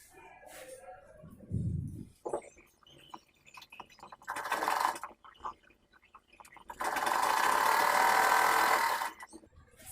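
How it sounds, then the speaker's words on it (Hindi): A sewing machine stitches piping around a sling bag in several runs of rapid mechanical whirring and clatter, the longest burst coming near the end, with quieter handling noises between. "एक ही स्टिच में यहाँ पे हमारा आगे पीछे दोनों तरफ स्टिचिंग आ जाएगा"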